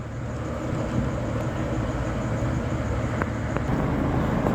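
Passenger train at Morwell station in Victoria, Australia, a low steady rumble with rolling noise from fairly close by, and a few faint clicks over the constant drone.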